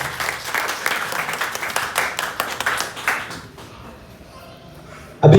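An audience claps to welcome a retiring teacher at a farewell party, a dense, sustained round of applause for about three seconds that then fades into quiet room sound before a loud thump at the end.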